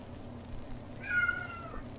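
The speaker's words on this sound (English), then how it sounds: "my cat is complaining about who knows what" A pet cat lets out a single short, faint complaining meow partway through, over a low background hum with no talking.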